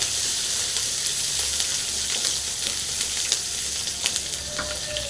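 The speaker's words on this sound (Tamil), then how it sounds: "கடுகு பொறிஞ்சிச்சு கொஞ்சம் இடித்து பூண்டு போட்டுடலாம் இது பாருங்கள் பச்சை மிளகா" Mustard seeds splutter in hot oil with crushed garlic and green chillies for a carrot poriyal, giving a loud, continuous close sizzle broken by scattered sharp pops.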